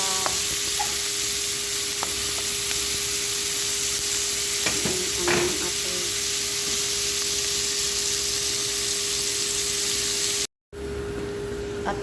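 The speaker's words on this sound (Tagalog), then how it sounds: "Lagyan na natin prituin na yung ating sibuyas para may lasa." Onions sizzle steadily in oil left over from frying fish, a constant close hiss with a few stirring clatters near the middle and a brief dropout near the end.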